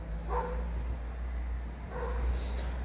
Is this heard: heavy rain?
no